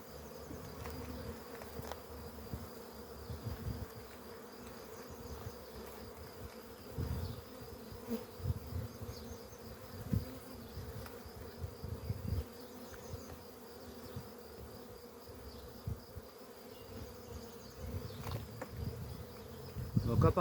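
Honeybees buzz steadily at the hive, a low continuous drone with faint close passes and no voices.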